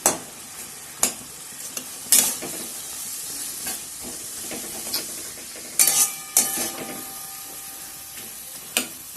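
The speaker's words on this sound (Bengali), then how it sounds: "I'll saute them for some time." Minced garlic and finely diced onions saute in a hot pan, giving a steady close sizzle broken by several sharp clinks and scrapes of a spoon stirring.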